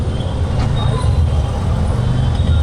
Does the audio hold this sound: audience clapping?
no